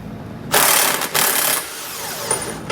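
A large frame bolt on a 2021 Ford Explorer being loosened with a 21 millimeter socket, two loud bursts of whirring, grinding tool noise followed by a quieter rattling tail.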